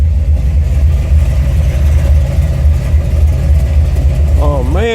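A Buick 455 Stage-1 big-block V8 in a Regal-T with a TA290-08H camshaft idles with a loud, steady, deep rumble close by, its tone lifting briefly at the very end.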